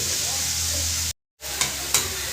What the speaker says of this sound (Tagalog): ginisa niya na yung atay